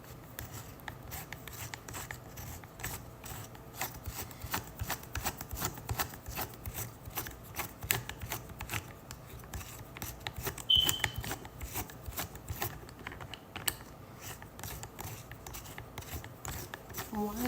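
A phone is fiddled with on a stand, producing close, quiet rubbing and scraping with rapid irregular clicks, as though something is being twisted and tightened.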